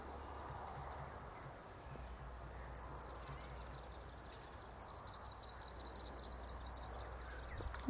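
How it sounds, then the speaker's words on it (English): Faint birdsong trills and chirps repeat rapidly in the distance over a quiet outdoor hush, growing busier after the first few seconds. "Listen to the birds singing."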